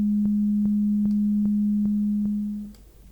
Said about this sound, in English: This is a completely stereo sound.